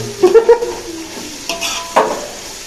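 Onions fry in a pan while a utensil stirs them, giving a few quick metallic clinks and scrapes over a light sizzle, brief and close.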